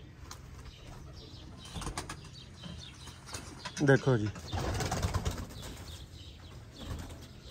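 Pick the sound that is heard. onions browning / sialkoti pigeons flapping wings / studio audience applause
sialkoti pigeons flapping wings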